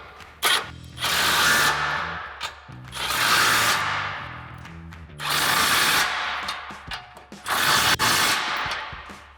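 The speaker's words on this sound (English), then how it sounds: "we're going to come back with our 21mm socket on our impact and tighten down all of our" Impact wrench with a 21mm socket tightening the mounting bolts of a RedRock Extreme HD rear bumper on a Jeep Wrangler JL: four loud, close bursts of rattling hammering, each lasting a second or two with pauses between.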